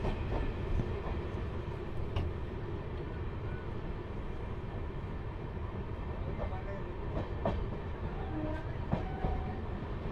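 Kolkata–Jammu Tawi Express train running on rails, a steady loud rumble of wheels and carriage throughout with faint clicks over the track joints, heard from inside without a break.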